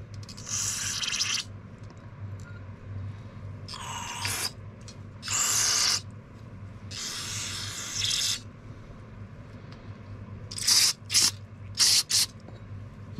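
Repeated hissing sprays of carbon and choke cleaner from an aerosol can into small-engine parts during a disassembly, several long bursts followed by quick short ones, close and fairly loud with quiet pauses between.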